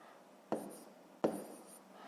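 A pen strokes on paper while a long division problem is worked out by hand, two short scratchy writing strokes close to the microphone, separated by a brief pause in a quiet room.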